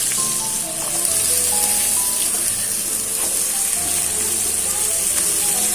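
Potato pieces frying in hot oil with curry leaves, turmeric and asafoetida in a home kitchen, a steady close sizzle and hiss with faint clinks of stirring throughout.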